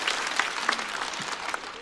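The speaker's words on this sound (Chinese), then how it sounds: "来，再次掌声送给杨欣" An audience at a stand-up comedy show claps for a comedian in a brief, dense burst of applause with scattered louder claps, steady throughout and free of speech.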